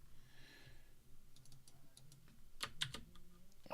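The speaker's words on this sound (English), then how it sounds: "Why can I not type here?" A computer keyboard is typed on in a short run of quiet, close keystrokes that grow sharper and more spaced toward the end.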